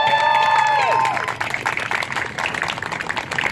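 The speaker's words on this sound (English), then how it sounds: "I want to give Charles one more big round of applause." Crowd at an outdoor protest in Williamstown, Kentucky, breaks into applause and cheering after a sustained tone fades. Loose clapping and voices continue for a few seconds.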